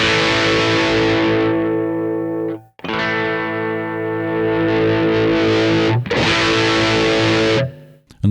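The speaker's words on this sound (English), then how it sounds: "The lead channel is regulated with gain to control the distortion amount. Let me demonstrate it with this Stack Classic." An electric guitar plays sustained, heavily distorted chords through the lead channel of a Stack Classic amplifier, loud and alone, in three long held strums separated by brief cutoffs.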